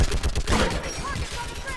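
Rapid bursts from a gun turret in the video game Mass Effect 3, a dense, fast string of shots over a short stretch, fairly loud and mixed with battle noise.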